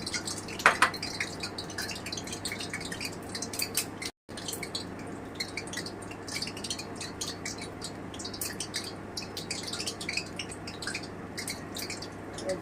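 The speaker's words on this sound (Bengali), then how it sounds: "এবারে আমি ময়দাটা দিয়ে দিচ্ছি একটু জল দিয়ে দিচ্ছি" Water trickles and drips into flour being mixed into batter for banana malpua, a steady, close, fairly quiet wet dripping over a faint constant background hum, with no talking.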